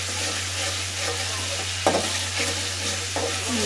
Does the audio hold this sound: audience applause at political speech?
no